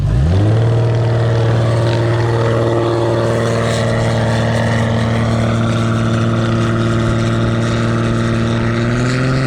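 A 1300-horsepower Polaris RZR dune buggy engine roars steadily at close range, its loud, sustained drone holding a high pitch as it climbs a sand hill, with no voices over it.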